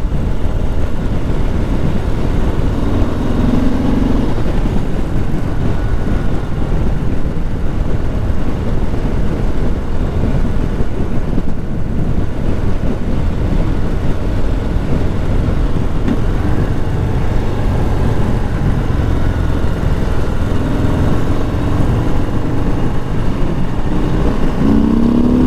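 A 2020 Harley-Davidson Sport Glide cruiser motorcycle rides along with a loud, continuous engine drone and heavy wind rush, the steady roar swelling slightly in places without a break.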